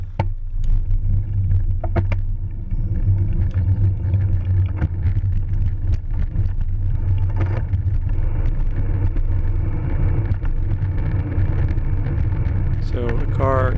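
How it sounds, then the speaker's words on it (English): A car engine rumbles steadily as a vehicle approaches, its low roar building over continuous road and wind noise, ending with a rising whine. "But then the car coming up."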